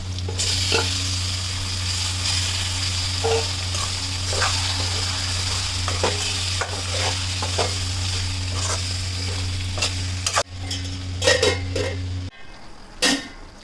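Mutton frying in a pan for a masala curry gives a steady, loud sizzle with a constant low hum underneath, broken by scattered stirring scrapes and clinks before the noise drops off near the end.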